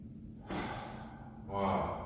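During a home karate warm-up, a person rises onto tiptoes and breathes deeply, with a long audible inhale followed by a heavier, breathy exhale, close and fairly quiet.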